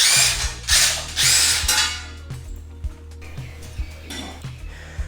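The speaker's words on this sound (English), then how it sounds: "Now we want to undo these 4 bolts to remove the dust cover." A ratchet clicks as the four bolts come off the hub dust cover of a Suzuki Jimny. Loud, close bursts of rapid clicking alternate with single metallic clacks and short pauses.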